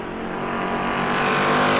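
A loud big-V8 Super Stock race car engine, Monte Carlo or Camaro style, roars close by during qualifying at New Smyrna, its pitch and volume building steadily as it drives past.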